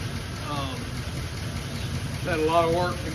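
An uncut 1934 Ford coupe barn find with a flathead engine idles steadily in the background, a low even rumble, while people talk over it.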